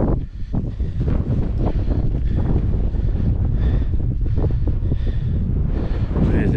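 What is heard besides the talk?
wind blowing on a hilltop in the Peak District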